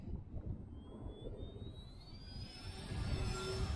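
An EDOMODEL Cessna 185 Skywagon RC model plane flies a downwind pass over a rough field, its motor whine rising in pitch as it passes and growing louder toward the end against steady outdoor rumble.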